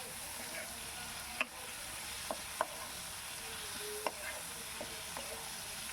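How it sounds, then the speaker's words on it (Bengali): Sliced tomato being stirred into a tangra fish curry in a pan, a soft steady sizzle with a few sharp spoon clinks against the pan, fairly quiet and without talk. "এটা আমি দিয়ে আবার হালকা করে নাড়িয়ে চাড়িয়ে নিচ্ছি"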